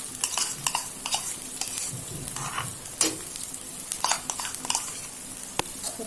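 Ground poppy seed, cashew and melon seed paste goes into hot oil in a pan for a doi katla fish curry, giving a soft close sizzle with scattered scraping and clinks of a spoon as it is stirred.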